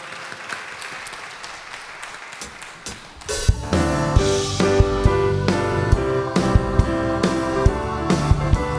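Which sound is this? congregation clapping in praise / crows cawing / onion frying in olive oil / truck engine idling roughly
congregation clapping in praise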